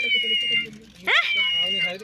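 A cat on a coffee estate lets out a single short, rising meow midway, close and clear over a steady background tone.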